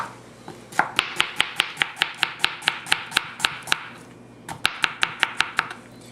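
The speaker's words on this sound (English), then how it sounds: "And then slice it. As thinly as you can." A knife thinly slices food on a cutting board in a fast, even run of about twenty crisp taps, pauses briefly, then resumes with another quick burst of roughly nine strokes, close and clear.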